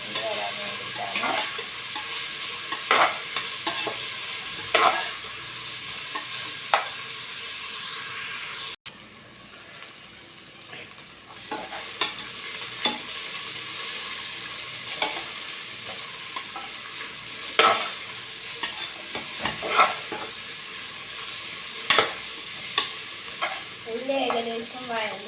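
Ingredients for Kerala beef curry sauté in a pan under a steady close sizzle, punctuated by repeated spoon scrapes and taps, with a short quieter gap partway through.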